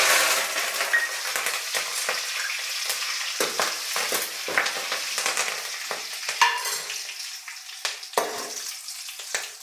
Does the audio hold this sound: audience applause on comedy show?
no